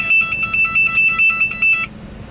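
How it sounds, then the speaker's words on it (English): A truck driver's wake-up alarm sold at truck stops beeps in a rapid repeating electronic pattern, loud and close, for about two seconds before cutting off, with no talking. "These are truck driver wake-up systems that you can get from the truck stop."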